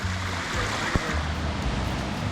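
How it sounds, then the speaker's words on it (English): Cooper Brook in the 100 Mile Wilderness flows steadily, a broad, close rushing wash of water with no break, loud and continuous throughout. "It's a brook, I think."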